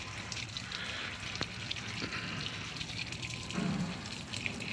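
Water poured onto two or three small potted tomato plants beside a room, a soft steady splash and trickle, faint and close, with a brief heavier gush near the end.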